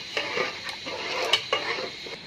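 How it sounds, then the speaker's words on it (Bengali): Sugar is stirred into milk in a pot for semai, a spoon making repeated soft scrapes and clinks against the metal in an uneven rhythm, close by and moderately loud. "ভালো করে আমি চিনিটা মিক্স করে দিচ্ছি"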